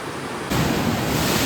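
Steady roar of ocean surf on the Japanese coast at Tomogashima or Shirahama, broadband and washing, rising sharply after a quieter first moment and holding loud to the end.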